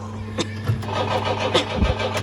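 Toy airplane ride-on rocker with an electronic engine sound effect: a steady droning motor tone with low hum bands runs throughout, with brief clicks and bumps from handling layered on top.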